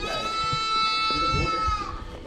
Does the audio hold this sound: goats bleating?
yes